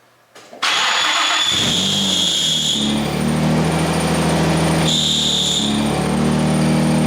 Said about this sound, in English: I spun the throwout bearing, and it spins